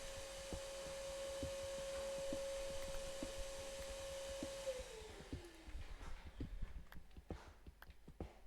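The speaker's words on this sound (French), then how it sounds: "Moi, j'entends l'aspirateur dans ton micro." A vacuum cleaner heard through a microphone as a steady, thin whine and hum in the background, which winds down in pitch and stops midway, leaving faint scattered knocks and room noise.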